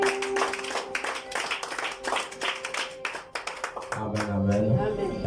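A church congregation claps and cheers in a lively burst of applause, brisk irregular hand claps filling the room while a voice speaks over it near the end.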